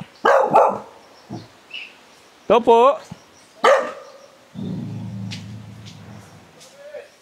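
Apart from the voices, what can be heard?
dog barking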